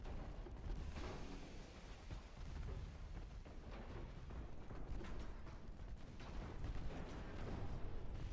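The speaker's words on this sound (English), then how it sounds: "There's a whole lot of explosions happening back there." Naval battle explosions in the Ultimate Admiral Dreadnoughts video game: a dense, continuous rumble of distant booms and artillery fire, layered and steady, with no clear breaks.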